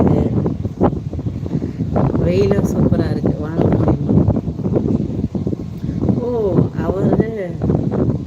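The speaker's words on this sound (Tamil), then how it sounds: "காற்று நல்லா அடி" Wind buffets the microphone in a steady low rumble while people talk over it throughout.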